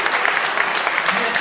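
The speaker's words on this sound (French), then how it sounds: "applaudit encore une fois la chorale" A church audience applauds the choir after a hymn, a dense, steady wash of clapping filling the short moment at close range.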